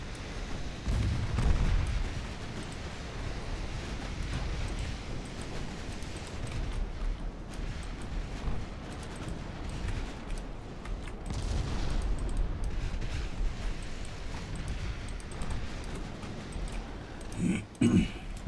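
Naval gunfire in the Ultimate Admiral Dreadnoughts warship game, a steady rumble of distant cannon booms and low thuds rolling on continuously, with a sharper burst near the end.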